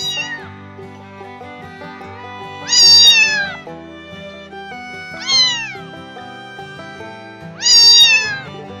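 A domestic cat meows three times, each a loud, drawn-out call with rising and falling pitch, separated by pauses of a couple of seconds over a faint steady background.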